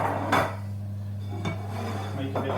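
Dinner plates are lifted out and set down on a kitchen counter, giving three sharp ceramic clatters spaced apart over a steady low hum, with no talking.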